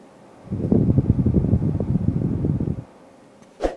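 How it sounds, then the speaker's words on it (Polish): A Klarta Stor 3 air purifier's fan runs at its second speed, a loud steady whoosh of moving air that starts abruptly and cuts off again after about two seconds. "Wybierając z panelu sterowania drugą prędkość, możemy się spodziewać hałasu w okolicach 47 dB"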